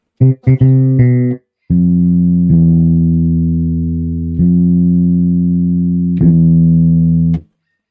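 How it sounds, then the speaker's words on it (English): Deep plucked software bass guitar notes in FL Studio for a trap beat, a few quick short ones then long sustained tones, played clean and close with nothing else underneath. "I think a bass guitar would be good in here"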